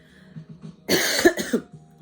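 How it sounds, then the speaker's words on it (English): A single harsh cough burst up close, with quiet background murmur before and after. "so sorry about the coughing"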